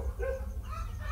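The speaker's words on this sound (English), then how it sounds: "oh, now the dogs" Dogs bark at a distance, faint and muffled, with a low background hum underneath.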